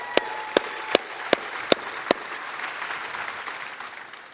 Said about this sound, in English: let's give a round of applause for Godard Abel.